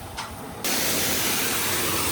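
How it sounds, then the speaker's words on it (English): A pressure water jet begins spraying down the wall of a car wash bay, starting abruptly after a brief faint noise and continuing as a loud, steady, close hiss with no talk. "We're just gonna spray this wall down and then we'll start scrubbing and then we'll spray it off."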